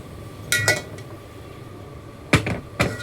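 A metal pot clanks and scrapes as it is shifted onto the back burner of a gas stove, two close pairs of sharp metallic knocks with a quiet pause between.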